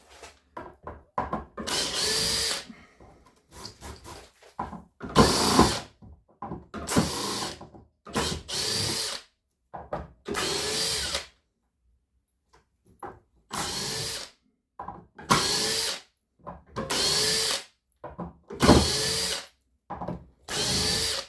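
Nine-year-old cordless drill driving screws, repeated loud whirring bursts of one to two seconds separated by pauses of silence, close up.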